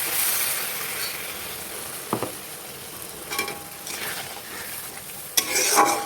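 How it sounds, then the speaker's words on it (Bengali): Ground spice paste with spice water frying for a rohu fish curry with tomato, a steady hiss with a few scraping stirs and a louder sizzle burst near the end, close up. "আমি এই মশলার জলটা এর মধ্যে দিয়ে আর একটু কষিয়ে নেবো"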